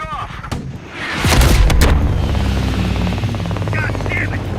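Gunfire and a helicopter in the video game Call of Duty Black Ops Cold War: a loud burst of shots and a blast give way to a steady, close rotor drone, with radio-style voices talking over it.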